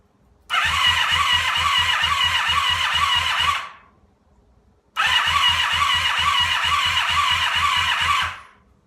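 A rebuilt motorcycle is cranked for its first start with the fuel pump forgotten: two loud, close starter cranks of about three seconds each churn rhythmically and never catch, with a short silence between them.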